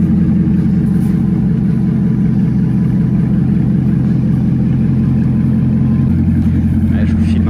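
Bugatti Bolide hypercar cruising slowly through Paris streets, its engine a steady deep low rumble held close and continuous, with faint street noise and no clear change in revs.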